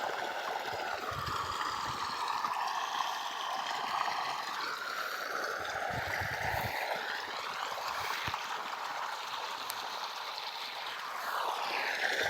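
Irrigation water pumped by a motor pours along a channel into a millet field, a continuous gurgling, rushing flow heard close and steady throughout.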